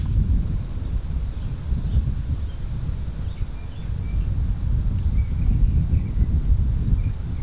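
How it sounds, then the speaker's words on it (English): Gusty wind blows across an open golf course and buffets the microphone in a continuous low rumble that rises and falls, with faint bird chirps in the background and no voices. "It's a little windy."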